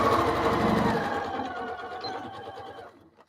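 Along a fabric edge, a sewing machine back stitches with a close, steady motor whir that slows and trails off toward the end.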